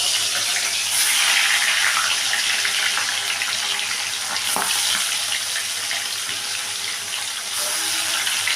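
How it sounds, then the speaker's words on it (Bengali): Rupchand pomfret fish fry in hot oil in a wok, giving a loud, continuous hiss and crackle with occasional sharper spits, heard alone without talk. "মাছগুলোকে আমি ভেজে নিচ্ছি"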